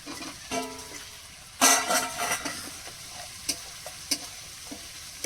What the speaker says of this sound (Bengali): এবার এর মধ্যে আলুগুলো ঢেলে দেবো।